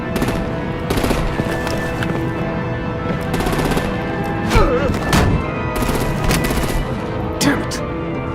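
Bursts of gunfire from the video game Batman: The Enemy Within, rapid machine-gun volleys and heavy thumps firing in repeated loud clusters, with game dialogue spoken around them.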